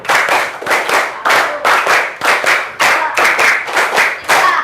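An elementary school class claps out a rhythmic pattern in repeated loud, close bursts of quick hand claps, each group separated by a short pause.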